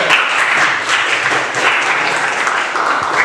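A classroom of students applauds, dense close-up clapping that runs evenly and fairly loud for the whole stretch.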